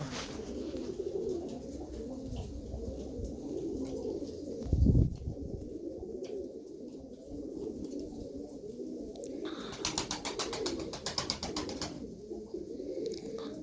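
Dutch tumbler pigeons coo softly and steadily in a loft, with a low murmuring coo running throughout, a brief louder burst around the middle and some faint rustling and chirps.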